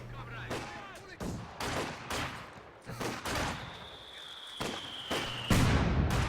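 Mortar shots and artillery thumps boom at irregular intervals across a Company of Heroes 2 battle, each sharp report fading quickly, with distant gunfire and a faint whine layered between the blasts.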